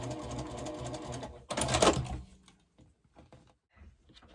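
A sewing machine stitches quilt block flips in a close, steady whir for about two seconds. A short louder burst follows, then it falls quiet with light handling noises.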